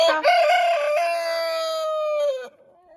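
A rooster crows once, loud and close, for over two seconds, from a flock of chickens leaving their coop in a snowy, minus-ten-degree winter run. A brief cluck comes just before the crow.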